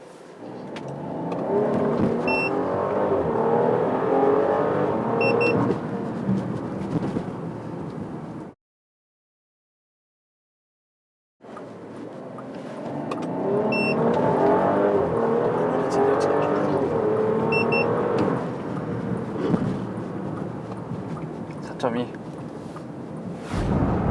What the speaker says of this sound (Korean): 그냥 가속 페달을 밟는 걸로 달려보겠습니다